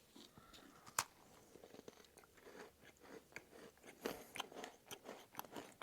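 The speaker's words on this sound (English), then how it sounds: "It's got a crumbly kind of texture when you first bite down into it" Crumbly Algerian chocolate snack bitten and chewed up close, a sharp crunch followed by irregular quieter crunching and chewing, no talking.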